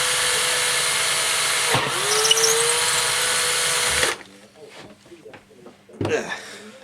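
A power drill with a 5/32 bit whines steadily through a small part held in a vise for about four seconds, then winds down, followed by quieter clicks and handling noises nearby.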